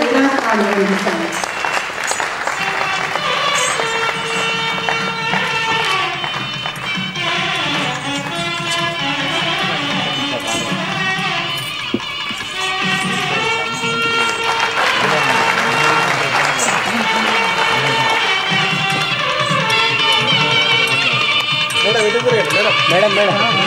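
An audience at a birthday celebration claps in sustained, loud applause that fills the whole stretch, with voices mixed in.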